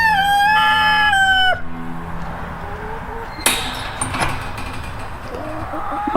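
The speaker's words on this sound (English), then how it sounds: "I'm so glad that these roosters don't bother me." Roosters on a farm: one crows loudly and close by, a long harmonic cock-a-doodle-doo, then gives way to farmyard clatter and background noise.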